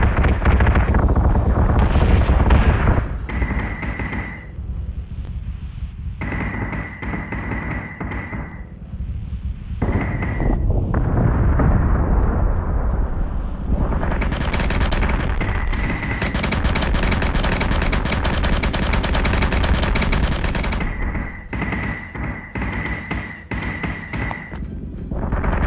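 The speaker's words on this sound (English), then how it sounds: "We're taking fire." Ships are hit by sustained gunfire and heavy booming impacts in the space battle game Battlestar Galactica Deadlock, a loud, dense rumble of explosions with intermittent tonal warning beeps throughout.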